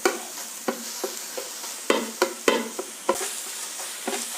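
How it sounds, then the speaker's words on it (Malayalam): Ginger garlic paste fries in coconut oil in a pan, a close, continuous sizzle broken by sharp, irregular scrapes and knocks of a spoon stirring, with no talking. "ആ വെളിച്ചെണ്ണയിൽ ഈ ഇഞ്ചി വെളുത്തുള്ളി പേസ്റ്റ് നമുക്കൊന്ന് മൂപ്പിച്ചെടുക്കാം."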